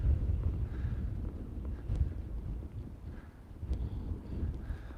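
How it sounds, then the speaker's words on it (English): Low rumbling wind buffets the microphone in uneven gusts, a continuous blustery roar with no voices. "It's windy. I hope that my microphone doesn't blow off."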